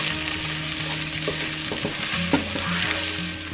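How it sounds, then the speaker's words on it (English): Diced onions sauté in oil in a pan for lemon garlic chicken, giving a steady, close sizzle that runs unbroken throughout with a few soft clicks of utensils. "we're gonna add our onions that we diced earlier. Saute these up"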